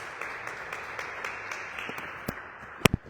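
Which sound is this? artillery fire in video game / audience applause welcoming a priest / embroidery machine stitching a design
audience applause welcoming a priest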